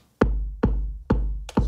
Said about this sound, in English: I just have a kick drum which sounds like this